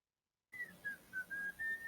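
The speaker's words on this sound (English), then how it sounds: "I was just like hearing someone whistling the Robin Hood thing." Someone whistles a short Robin Hood tune of five quick, clear notes, faint and thin against a quiet background.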